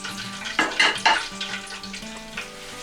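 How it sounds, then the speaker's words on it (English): Veggie scotch eggs sizzle and bubble in a deep fryer, with several splashy bursts of crackling oil close up against a steady frying hiss. "get them in the old fryer. We'll let them cook away."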